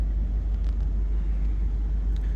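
A 2006 Volkswagen Beetle 1.4 convertible idles steadily, a low, even rumble held close and constant for a couple of seconds with no talking.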